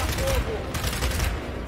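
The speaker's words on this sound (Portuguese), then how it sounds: "não tá nada legal trocar tiro daqui" Rapid gunfire bursts from the Gears 5 video game, a dense continuous fusillade of shots under a player's talk.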